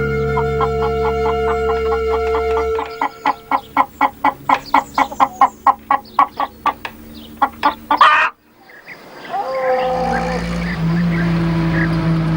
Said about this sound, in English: Tom drew a hen that had walked into the churchyard